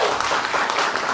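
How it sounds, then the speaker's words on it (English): Audience applause in a temple hall of an ISKCON gathering, a dense, steady wash of clapping from many hands that carries evenly through the whole short moment. "Give that a round of applause."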